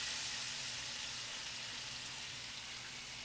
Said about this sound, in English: I'm going to throw my onions, tomatoes, scallions, everything in the pan to saute